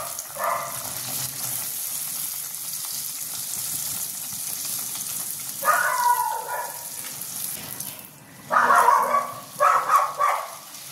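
Kulcha frying in hot oil, a steady soft sizzle throughout with a few louder bursts of crackling bubbling midway and near the end, heard close with no talk.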